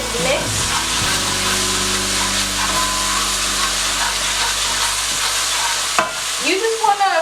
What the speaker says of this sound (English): You just want to fry the seasonings for about 30 seconds.